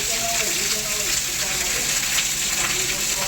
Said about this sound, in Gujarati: વરસાદ જોરદાર ચાલુ થઈ ગયો છે